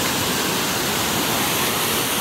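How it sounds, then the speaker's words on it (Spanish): A river waterfall swollen with lots of water roars as a steady, loud, dense rush that fills the whole short stretch with no voices over it. "la cascada tiene harta agua también"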